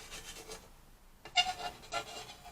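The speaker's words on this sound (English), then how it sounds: "Now I'm just going to take my little spatula here and get rid of some of this paint on top," A small spatula scrapes paint off the top of a fluid-art pour painting, making a few soft, brief rasping rubs with quiet gaps between them, close and faint.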